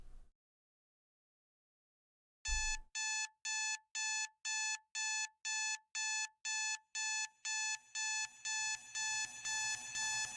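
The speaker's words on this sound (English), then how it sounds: "Am I the only one who thinks that rapping over an alarm clock is kind of hard to compare" Loud, steady alarm clock beeps pulse in a regular rhythm as part of a song's beat, starting after a short silence and repeating about fifteen times while a low bass layer builds beneath them.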